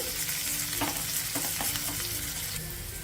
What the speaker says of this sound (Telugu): జస్ట్ ఈ ఉల్లిపాయ ముక్కల్ని పచ్చిమిర్చి ముక్కల్ని ఒక నిమిషం ఫ్రై చేసుకోవాలి